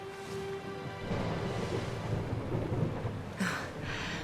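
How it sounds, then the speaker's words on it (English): A thunderstorm in the Dragon Quest XI video game: a deep, rolling thunder rumble with steady rain, swelling after a quiet start, heard alone without speech. "Would you look at it thundering away out there?"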